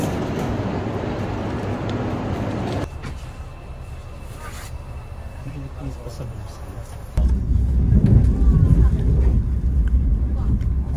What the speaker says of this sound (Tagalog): Here comes the train, guys.